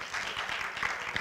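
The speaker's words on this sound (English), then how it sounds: "one more round of applause" A panel audience gives brief, moderate applause, a soft, steady patter of many hands with a voice faintly underneath.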